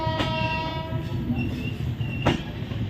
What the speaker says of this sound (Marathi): चला आपली ट्रेन निघालेली आहे आता.